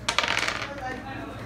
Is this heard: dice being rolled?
yes